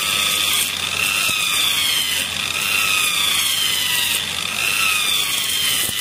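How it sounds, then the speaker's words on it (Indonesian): Metal on a power scooter restoration is sanded with coarse 80-grit sandpaper, giving a loud, continuous scratchy rasp with repeated strokes throughout. "Jadi ini kita gunakan amplas kasar dulu yang 80."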